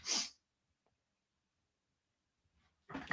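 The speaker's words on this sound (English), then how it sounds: "Oh, felt the sneeze coming on there." A single sharp sneeze bursts out at the start, then near silence with faint rustles, ending with a breathy exhale or sniff.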